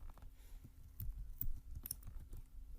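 Typing on a computer keyboard: quick, irregular clicks of keys in a steady patter, close and fairly quiet, with no voice over it.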